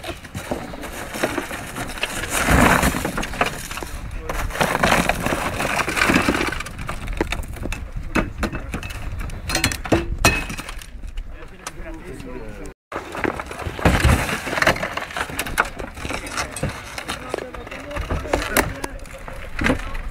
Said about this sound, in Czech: Pozor, budeme rozbíjet sklo